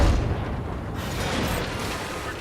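Artillery shell striking a tank in a tank combat video game, a dense rumbling boom with a sharp low burst at the start and a sustained noisy roar that carries through to the end.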